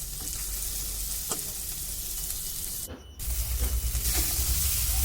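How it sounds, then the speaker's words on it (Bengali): Mustard paste with ginger and garlic frying in oil, giving a steady loud sizzle with a brief dropout midway before the hiss returns stronger, with light stirring scrapes. "সর্ষে বাটাটা অল্প করে দিয়ে অল্প ভাজা হবে।"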